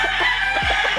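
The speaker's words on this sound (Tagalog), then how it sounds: "Ayan po ang ating 6 months na stag" A six-month-old stag chicken, a young rooster, gives a short crow-like call against a steady background of noise, with no one talking.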